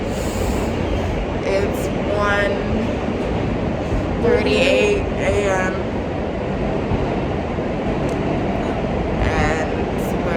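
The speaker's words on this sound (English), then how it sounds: "we're on the train home alone" A steady rumbling train ride with rattling and clatter throughout, a brief squeal partway through, and a person speaking briefly over the noise.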